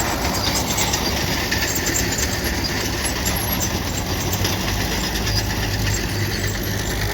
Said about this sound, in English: Little Caterpillar D4, it says on the side.